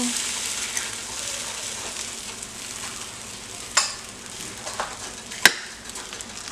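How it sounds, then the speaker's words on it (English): Eggs are scrambled and mixed into a sizzling tater tot casserole in a pan. A steady frying hiss carries a few sharp utensil taps and scrapes, close and without talk. "I scramble my eggs into it and I make it as one cohesive dish"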